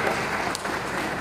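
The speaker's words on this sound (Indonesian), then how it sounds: "Tepuk tangan dulu untuk Tun dulu." Short burst of dense audience applause at an official inauguration ceremony, continuous and fairly loud for about a second.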